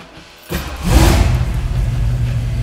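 A 1970 Ford Mustang Boss 302 V8 cranks and fires after a brief quiet moment, catching with a loud rising roar and then settling into a deep, rumbling idle close by.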